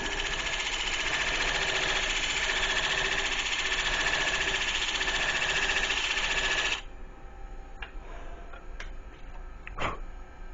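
A wood lathe spins a corn cob pen blank, giving a steady dense whirring hiss of cutting for most of the stretch before the tool lifts off, leaving a quieter hum with a few light ticks and a sharp knock.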